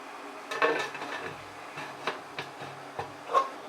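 An idli steamer covered with its lid: a few light metallic clinks and clatters, close by, spaced across a few seconds in a quiet kitchen.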